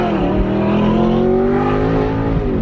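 A salvaged Audi R8 with a repaired frame pulling away, its engine revving loudly and close with rising harmonic tones as it accelerates, heard alone without talk.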